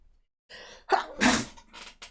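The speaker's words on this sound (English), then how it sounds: "Sorry, I'm sneezing." A single sneeze, close and sudden, with a sharp intake of breath before it and a short breathy exhale after.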